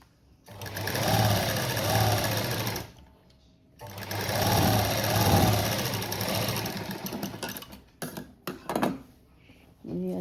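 A sewing machine runs in two long bursts while stitching a blouse neckline, steady whirring and rapid needle thumping up close. A pause falls between the bursts, then short stop-start runs follow near the end.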